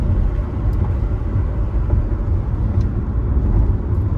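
A 2006 Chevrolet Corvette driving on the road, a steady loud low engine and road rumble from inside the car, with no distinct gear change standing out.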